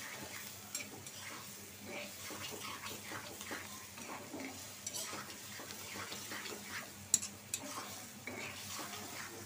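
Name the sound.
stir-frying spice masala in a pan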